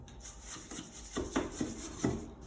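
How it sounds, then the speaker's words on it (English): A smoothing brush rubs against wood chip wallpaper on a wall, tucking it in behind a recess, making several close, rough scraping strokes spaced about half a second apart. "just tuck it behind like that with your smoothing brush"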